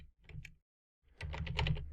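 Quiet computer keyboard key presses in two short bursts with a pause between, close and crisp, no talking.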